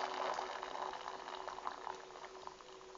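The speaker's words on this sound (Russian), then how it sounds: "Вот заливаем кипятком, еще раз пробуем." Boiling water poured from a kettle onto eggs, a steady bubbling, hissing wash of liquid heard up close and continuous for the whole stretch, with no talking.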